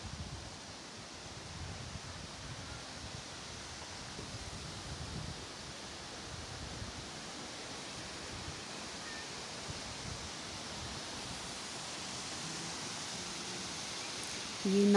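Badoliya waterfall beside the Nahan road, near a temple, roars as a continuous broadband wash of falling water at moderate distance, steady for fifteen seconds with faint rustling and no talk.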